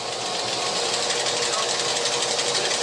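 A high-powered polisher lapping silicon wafers gives a dense, steady mechanical whir with a rapid rattling chatter, loud and close throughout with no pauses.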